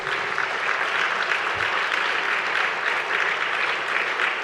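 A church congregation breaks into steady, dense applause in praise of God during a sermon, continuous clapping from many hands with no talking.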